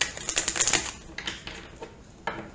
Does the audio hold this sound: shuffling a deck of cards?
yes